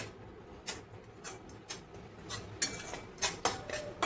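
A utensil stirs besan and wheat flour roasting in a pan, making a soft background sizzle broken by a dozen light, irregular scrapes and taps of metal on the pan, close and fairly quiet.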